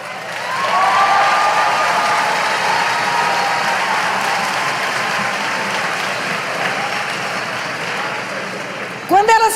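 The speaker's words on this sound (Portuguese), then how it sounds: "Pode aplaudir." A church congregation applauds steadily and fairly loudly for several seconds. The clapping eases a little toward the end, with a low hum running beneath it.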